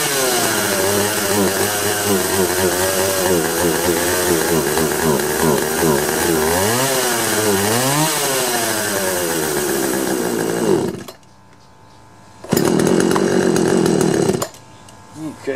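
A Poulan chainsaw engine runs loud and close, holding a steady buzzing idle that rises and falls in pitch as it is revved, then cuts out briefly, restarts for about two seconds and drops away again.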